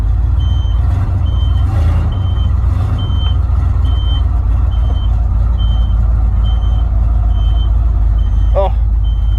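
Reverse beeper on a 1990 Chevrolet C3500 truck, a steady series of evenly spaced high beeps sounding over a loud, constant idling engine rumble, with a brief sharper sound near the end.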